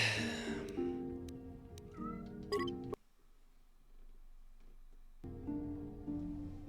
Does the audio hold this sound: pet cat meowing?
yes